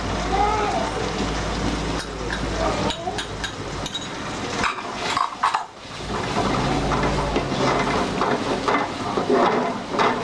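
Ginger, garlic and turmeric frying in a pan for Bengali chicken rezala, a dense continuous sizzle with stirring clatter, heard under a voice talking.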